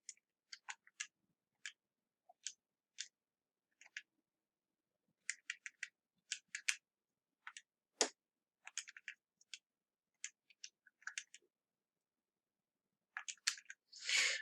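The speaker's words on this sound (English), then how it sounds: "And now I can type this into the calculator." Calculator keys being typed: faint, close, sparse plastic clicks tapped out in short irregular groups with silent gaps, ending in a quick flurry of presses.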